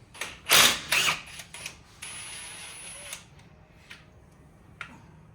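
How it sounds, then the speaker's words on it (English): Metal clicks and a ratcheting wrench working loose a timing cover bolt on a Ford 7.3 Godzilla V8 engine fitted in a Fox Body Mustang during a cam install, a few loud close clatters followed by a steady whirring run, then quieter taps. "we're going to get this bolt out, pull this cover off, and go to town"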